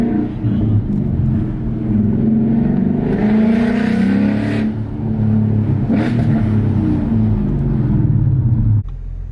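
A Ford Mustang GT engine with an X-pipe and electric exhaust cutouts revs loud and close, its deep rumble rising and falling through several throttle pushes before cutting off abruptly.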